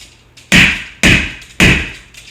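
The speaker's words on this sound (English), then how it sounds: "Do a couple more good hammers." Three loud, sharp hammer strikes land at an even pace on metal beams while a habitat base is being assembled, each blow close and ringing briefly.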